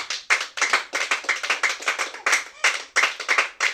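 A church congregation claps and cheers in praise of God, with loud, dense, slightly uneven bursts of many hands repeating in a steady rhythm close by.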